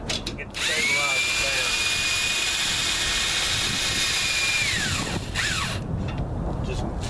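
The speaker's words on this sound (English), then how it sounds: "You may not have a drill with you, but I got one here that I like to use" A cordless power drill whirs steadily, driving a stabilizer stake through a pop-up canopy corner into the ground, its motor holding a high whine for several seconds before spinning down, with a short second burst after.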